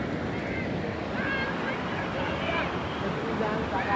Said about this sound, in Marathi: खूप म्हणजे खूप पूर आलेला आहे